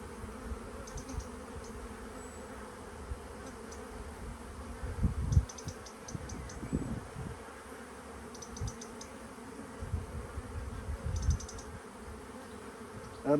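Honeybees buzz softly and steadily around an open hive during an inspection, with louder swells as bees pass close, along with faint clicking and handling noises from the tools on the comb.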